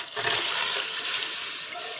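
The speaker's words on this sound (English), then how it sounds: "So my water is going in." Water is poured from close by into a cooking pot of garden eggs for pepper soup, making a steady, bright rushing splash that lasts about two seconds.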